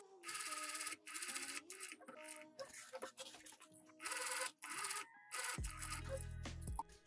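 A sewing machine top stitches fabric very close to the edge while making cargo pants, running in several short bursts of stitching separated by pauses, then a deep low rumble near the end.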